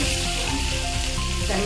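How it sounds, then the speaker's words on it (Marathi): Ginger pieces sizzle and fry in a hot pan, a steady close crackle with light stirring over a short stretch, no talk. "आणि आल्याची तुकडे, हे पण जरा 1-2 मिनिटं आपण भाजून घेऊया"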